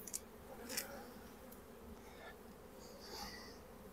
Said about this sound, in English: So these bees not only are on a source, they are they're thriving.